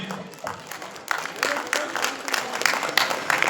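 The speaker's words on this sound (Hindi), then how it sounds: "तालियां होती रहनी चाहिए" Audience at a school talent show claps in scattered, uneven bursts, moderately loud, with background crowd noise.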